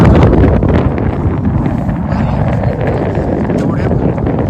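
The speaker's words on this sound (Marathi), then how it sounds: "वारा बघा बापरे" Strong wind buffets the microphone at the Nako mountain-top viewpoint in Spiti Valley, a loud, steady rumbling roar that lasts throughout.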